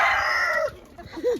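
A rooster crows loudly on a small homestead flock of about 30 chickens, then gives way to softer clucks nearby, with no voices.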